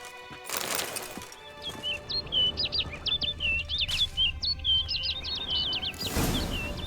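Bright, quick birdsong from The Witcher 3: Wild Hunt on PS5, a run of repeated high chirps and tweets over quiet outdoor ambience, fairly close and clear with no voices.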